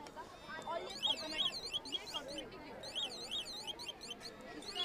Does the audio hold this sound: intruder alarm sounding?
yes